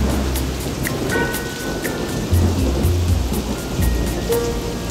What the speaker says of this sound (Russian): Только сойти на берег, и начался ливень.